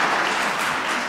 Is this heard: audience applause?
yes